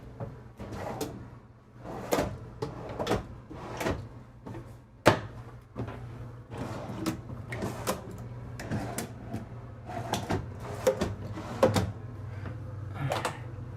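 Drawers and cupboard doors in a Newmar Dutch Star 4020 Class A motorhome kitchen are opened and shut again and again, a quick run of close knocks and slides over a steady low hum.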